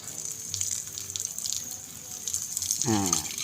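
Water running and splashing during bathing at a resort, a steady nearby gush and trickle with a brief voice toward the end.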